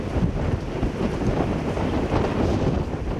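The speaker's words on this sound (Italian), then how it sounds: "Il vento ci sta davvero spostando, è un vento fortissimo" Strong, gusty wind roars steadily across the microphone during stormy weather in Venice, a loud, continuous buffeting rush with no voices.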